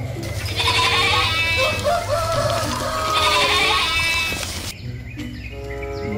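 Two long, wavering goat bleats ring out close by, one after another, followed by a brief shorter cry as the sound cuts.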